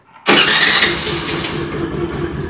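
A Honda Aviator scooter engine cranks and catches abruptly, then settles into a steady, close idle with a rough mechanical rattle.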